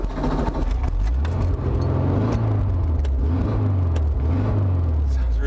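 A VW Type 2 van engine rumbles steadily at idle with a few gentle revs rising and falling, close by, while people talk faintly over it.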